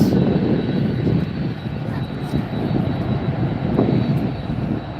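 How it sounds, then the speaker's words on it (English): An American Airlines plane touches down at Miami airport at night, its engines giving a steady low roar and rumble under a light whine, fairly close and continuous, with a voice talking over it. "Another American touching down"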